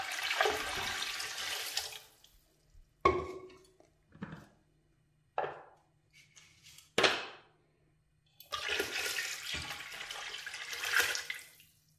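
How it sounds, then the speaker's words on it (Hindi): Water poured from a container into a yogurt and gram flour batter for curry pakora, heard as several short splashing pours separated by pauses, followed by a longer steady pour, close and moderately loud. "यहाँ हमने पानी शामिल कर दिया है तकरीबन 2 लीटर"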